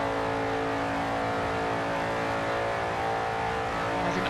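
An unmodified Dodge Daytona race car in Forza Horizon 2 roars at about 170 mph, a loud sustained engine drone with steady harmonic whine and no letup.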